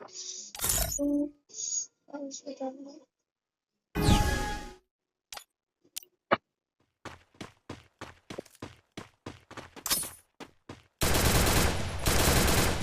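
Gunfire in the Free Fire mobile battle royale game comes as scattered single shots and quick bursts with gaps between them, ending in a dense rapid volley, and brief voice fragments appear early on.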